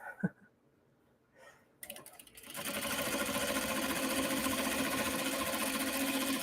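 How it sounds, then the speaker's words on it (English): A sewing machine starts up and runs in a steady, fast, continuous hum while stitching a leather clutch wallet, preceded by a few faint knocks and handling sounds, close and fairly loud. "I'm excited to be sewing again instead of like cutting."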